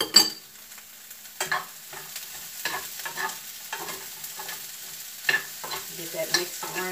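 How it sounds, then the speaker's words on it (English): Cauliflower sizzling in a hot skillet for vegan tacos, a steady frying hiss broken by repeated scraping stirs, close and moderately loud with no talking. "So we're going to throw this cauliflower in that skillet."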